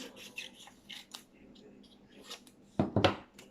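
Scissors snip through a small rectangle of coloured paper for a craft Christmas tree card, a quick double cut near the end after quieter handling noises.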